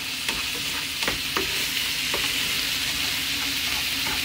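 A utensil stirs a seasoned dish in a frying pan, scraping and clinking a few times over a steady close sizzle, with no one talking. The seasonings include coriander and Indian- and Pakistani-style spices.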